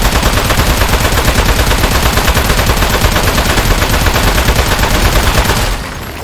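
Rapid, continuous video game gunfire in Aperture Desk Job hammers away loudly and steadily for several seconds, then cuts off abruptly near the end; no talking.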